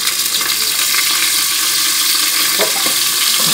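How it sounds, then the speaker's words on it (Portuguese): Linguiça sausages, pork loin and ribs frying in a pot for feijoada, giving a loud, steady, close-up sizzle with brief stirring scrapes near the end, and no voices. "Isso tudo vai para a panela ali, onde já tem umas linguicinhas sendo fritas."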